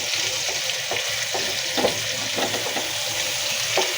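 Chicken pieces fry with onions in a pan for a cabbage chicken curry, a dense steady sizzle with scattered stirring clinks and scrapes, close by and fairly loud.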